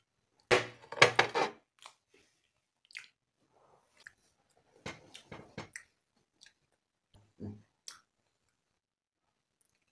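Someone chews food while tasting a home-cooked dish, with a few loud wet bites up close at the start, then scattered soft smacks and clicks amid quiet pauses.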